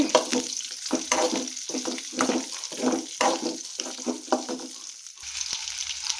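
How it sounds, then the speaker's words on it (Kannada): Okra frying in a pan is stirred in quick regular strokes, each bringing a burst of crackling sizzle and scraping, close and moderately loud before the stirring stops near the end, with no talk. "ನೋಡಿ ಬೆಂಡೆಕಾಯಿ ಹಿಂಗೆ ಹುರ್ಕೋಬೇಕು"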